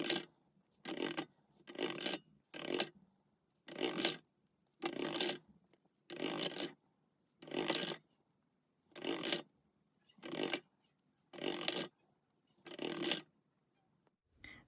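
Fluoro pink and gold Premo polymer clay being kneaded and worked together by hand, heard as a steady series of about eleven short rubbing, squishing bursts with brief quiet gaps between them.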